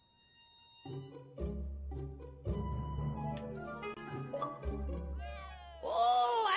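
A cat meows in the Back to the Future episode one video game, starting faint and building into a loud, drawn-out caterwauling meow over a low music bed.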